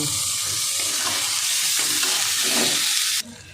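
Washed, drained Gobindobhog rice being sautéed in a pan, a loud continuous sizzle with hissy stirring, cutting off abruptly near the end.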